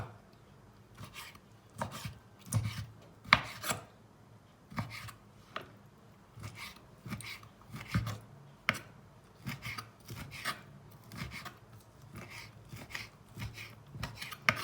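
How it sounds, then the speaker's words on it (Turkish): A kitchen knife chops heart and kidney for a liver sauté, making irregular clusters of sharp taps on a cutting board, close and moderately loud, with no talking. "Şimdi de yürek ve böbreğe doğrayacağım."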